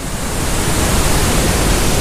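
A waterfall roars as a loud, unbroken rush of water on the Scottish NC500 route, filling everything with dense, steady noise.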